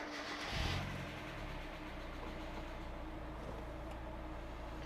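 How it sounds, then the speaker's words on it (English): A Mazda Miata engine cranks and catches with a short burst, then settles into a low, steady idle hum, fairly faint and with no talking. "we're going to start the car up and see what happens"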